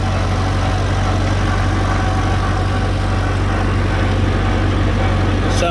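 A new farm tractor's engine runs steadily at idle, a loud, constant low rumble that holds without change from start to finish, close to the microphone.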